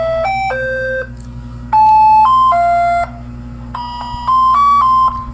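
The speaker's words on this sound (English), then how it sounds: "they are ringtone advertisement for Nestle and Selecta ice cream products" Electronic ice cream advertisement jingle for Nestle or Selecta, a bright series of clean beeping tones in short melodic phrases that pause and restart, played loud and alone over a steady low hum.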